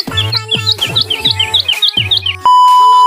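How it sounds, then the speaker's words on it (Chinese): A skylark sings in a rapid series of bright chirps and trills, close and loud. A sustained steady tone closes the song. "还有云雀，听得最多的就是它了。"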